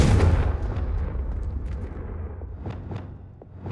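A Confringo blasting spell explodes in the video game Hogwarts Legacy with a heavy boom that rumbles and fades, then several sharper crackling pops follow in the dying tail.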